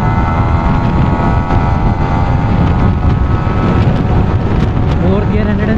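A Yamaha MT-15 V2 motorcycle accelerates hard through first, second, third and fourth gears, its engine note loud and continuous with steady rising harmonics and heavy wind rush over the microphone throughout.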